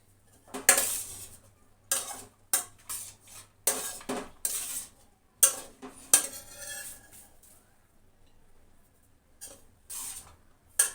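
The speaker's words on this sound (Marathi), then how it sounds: "आता आपण आपल्या प्लेटमध्ये हे सगळं सर्व करून घेऊयात" Satara-style poha being served onto a plate, a series of close metallic spoon scrapes and taps against dishes in irregular bursts, with quieter gaps toward the end.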